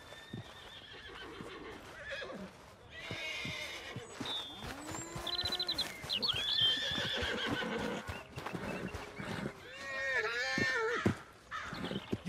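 A horse whinnies and snorts several times in the video game Red Dead Redemption 2, with hoof clops, crow caws and other game sounds mixed around it; no voices are heard.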